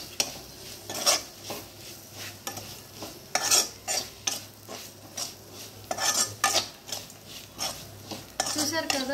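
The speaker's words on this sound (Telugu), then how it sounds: "ఇందాక చెప్పిన ఇంగ్రీడియంట్స్ అన్నీ వేసుకొని బాగా కలుపుకోవాలి" Metal spoon scraping and clinking repeatedly against a pan while fried onions with salt and spices are stirred to make onion rice, with a soft sizzle underneath, steady rhythmic strokes close up and no talking.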